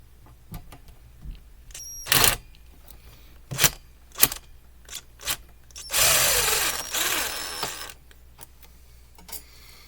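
Screws being backed out of a Mainstays SFC-225BR1 9-inch high-velocity fan with tools, heard as scattered short clicks and scrapes and a longer grinding burst midway, fairly close, with no talking.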